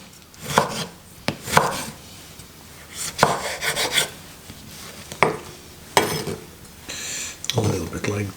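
A knife roughly slices two juicy tomatoes on a board, with several distinct chopping thuds at uneven intervals, some scraping and clatter in between, and a soft voice speaking briefly at times.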